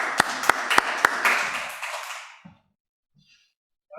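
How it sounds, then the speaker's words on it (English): A short burst of applause with a few sharp claps up front, dying away after about two seconds into near silence. "Let's give them a round of applause."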